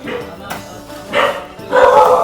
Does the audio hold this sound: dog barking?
yes